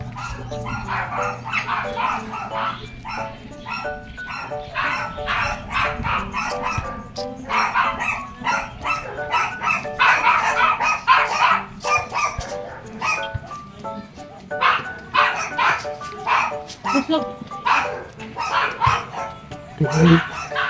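Several dogs bark and yip repeatedly at mid distance, a steady run of sharp barks with people talking now and then in the background.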